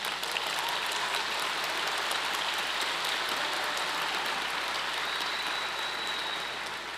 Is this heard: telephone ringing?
no